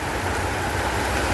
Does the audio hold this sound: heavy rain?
yes